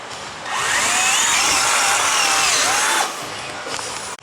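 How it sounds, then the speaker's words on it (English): A drill whines loudly for about three seconds as it bores into aluminum, then drops to a quieter hum. "Just going to drill a hole."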